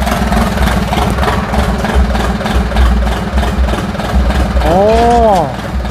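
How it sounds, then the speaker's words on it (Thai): A Yanmar three-cylinder turbo engine idles steadily on a rice leaf cutting machine, a continuous low rumble heard close up, joined near the end by a rising and falling tone. "เสียงแค่นี้ครับ เครื่องยนต์ยันมากครับผมนะ"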